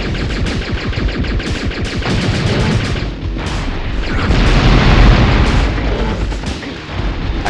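Gunfire and explosions from the video game Apocalypse: Bete, rapid loud bursts of machine-gun fire mixed with heavy booms, sustained and close throughout, with no talk.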